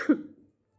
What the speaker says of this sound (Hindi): आज तो खांसी पढ़ाने नहीं दे रही